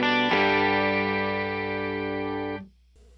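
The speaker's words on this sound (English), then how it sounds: "Then you can add a second octave, slightly detuned. And you have an 18-string guitar." Electric guitar chord played through an Electro-Harmonix POG octave pedal with a slightly detuned second octave added, ringing full and shimmering for about two and a half seconds before cutting off abruptly.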